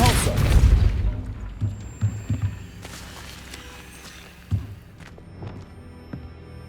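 A Depulso spell goes off in Hogwarts Legacy with a loud deep boom at the start that fades, followed by soft footsteps and a few dull thuds in a quiet game scene.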